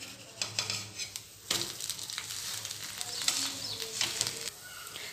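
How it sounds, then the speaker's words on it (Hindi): An onion dosa topped with green chillies sizzles loudly on a hot pan after being flipped, crackling and spitting in uneven bursts, with a few spatula scrapes and metallic clinks and no talk. "दूसरी साइड हमें हल्का सा सेकना है।"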